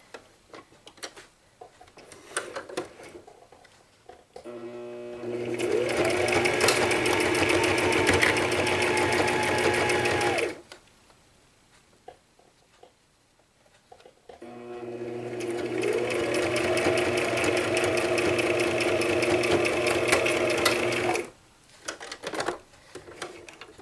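Sewing machine stitching a seam on a cross stitch drum finish, two loud rapid bursts of mechanical whirring and ticking separated by quiet pauses with small handling noises.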